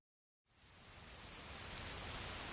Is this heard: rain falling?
yes